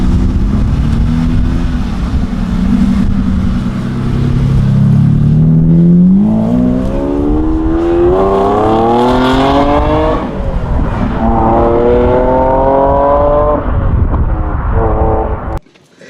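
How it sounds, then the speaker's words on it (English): A roll-caged Ferrari 550 Maranello V12 on a winding mountain road sounds loud and close from inside, rising and falling in pitch as it climbs through several gear changes with rev-matched shifts. "It's just the pleasure of you rowing through the gears, getting a perfect downshift, coming into a turn, matching those revs."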